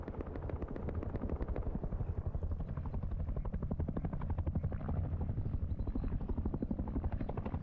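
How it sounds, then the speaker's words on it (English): Attack helicopter in the game Rust, its rotor thumping in a steady rapid chop that stays loud and close throughout, no talking. "Trying to tag the attack heli to come back over to Goon's side."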